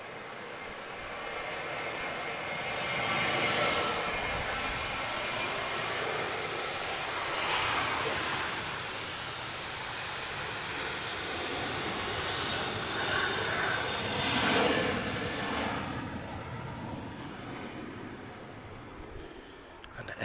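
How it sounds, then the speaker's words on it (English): A Ryanair airliner on the move at Lisbon Airport, departing for Budapest, gives a steady, distant jet-engine roar that swells and fades gently over about twenty seconds. "Okay, Ryanair on the move."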